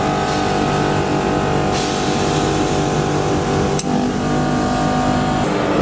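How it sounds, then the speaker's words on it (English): A scroll air-conditioning compressor runs with a dense, constant mechanical hum, and its tone shifts abruptly at a couple of sharp solenoid switching clicks. "The tone of the compressor is clearly changing immediately after each solenoid switching operation."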